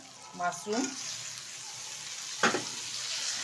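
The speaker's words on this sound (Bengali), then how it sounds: "মাশরুমটা বেশ কিছুক্ষণ আমি নেড়ে চেড়ে নেবো তেলের সাথে" Boiled mushrooms and potato stirred in hot oil in a pan, a soft frying hiss with a couple of louder scrapes and clatters, quiet between them; a brief voice-like sound appears near the start.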